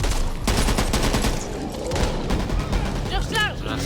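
Rapid gunfire fills a Halloween zombie video game, dense bursts of shots running continuously and loud, with a brief reload-like mechanical flourish near the end.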